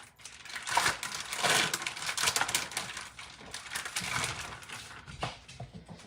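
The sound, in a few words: knife cutting and dicing ham steak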